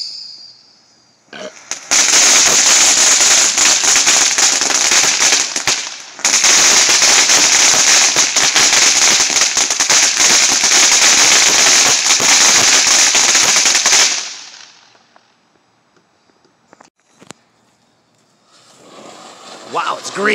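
Loud, sustained crackling bursts of fireworks fill most of the clip, pausing briefly, then dropping to near silence before faint noise and a voice return.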